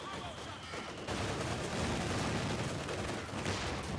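Dense, continuous anti-aircraft fire from four quad guns laying down suppression in Company of Heroes 2, a steady roar of rapid shots that jumps louder after the first second and then holds.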